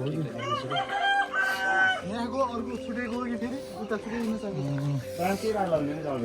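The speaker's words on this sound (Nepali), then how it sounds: "यता एउटा भाले त छ त्यो" A rooster crows in the distance in a village, its call repeating among clucking hens and other farmyard sounds while people talk nearby.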